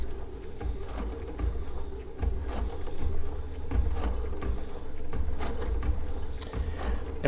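A Baby Lock sewing machine runs a line of Sashiko stitching across a quilt, giving a steady, close mechanical whir with quick rhythmic ticking throughout.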